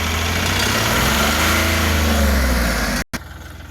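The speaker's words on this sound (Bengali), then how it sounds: "দর্শক আপনারা শুনতে পাচ্ছেন ইঞ্জিনের সাউন্ডের কন্ডিশন" A 2020 Dost Plus nine-seat vehicle's engine runs loud and close with the accelerator pressed, giving a sustained, even roar that cuts off abruptly near the end before a brief quieter tail.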